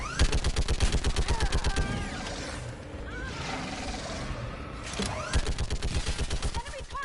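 Rapid automatic gunfire rattles through a Mass Effect 3 battle, dense rhythmic bursts at the start and end with a roaring lull between, loud and close, while voices shout over the fighting.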